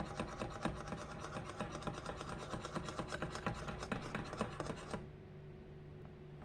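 Egg yolk, sugar and mascarpone stirred together in a bowl for a speculoos tiramisu: a steady, rhythmic scraping and rubbing for about five seconds, then it stops and only a low background hum remains.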